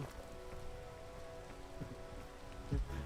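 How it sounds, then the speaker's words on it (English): Rain falls steadily in a video game, a soft, continuous hiss of drops with a faint low rumble and a thump near the end. "Why did it have to rain now?"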